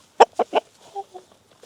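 Chickens forage on a farm, giving three close, loud clucks in quick succession followed by two softer, tonal clucks.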